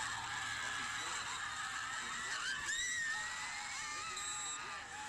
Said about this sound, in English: insert cell phone video and loud screams right here